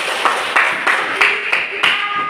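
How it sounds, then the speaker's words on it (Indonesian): Classmates in a micro-teaching practice class clap for a student, a close, fairly loud string of separate claps in a loose rhythm, with a few sharper strikes standing out. "Tepuk tangan untuk kakak Bilkis"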